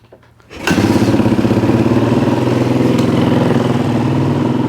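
A dirt bike engine on a small KTM 50, KX65 or WR450 is kick-started: a short scuffle, then the engine catches and runs at a loud, steady, rapid idle close by.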